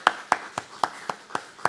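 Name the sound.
congregation clapping during sermon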